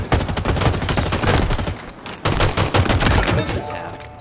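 Rapid automatic gunfire fills a Halo Infinite capture-the-flag match on the Red Desert map, dense bursts of shots hammering almost continuously with a brief gap midway.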